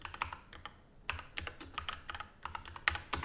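Fast, uneven typing on a computer keyboard, close and fairly quiet, with crisp individual keystrokes in quick runs and brief pauses and no voice over them.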